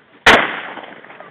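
A single loud shotgun blast during a goose hunt, a sharp close report followed by a fading echo across open ground.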